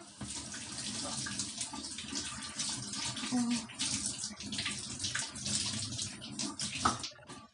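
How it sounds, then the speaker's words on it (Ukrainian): Hands being washed under a running kitchen tap, a steady rush and splash of water with shifting splatter as the hands move through the stream, fairly close and continuous. "Так, руки мию."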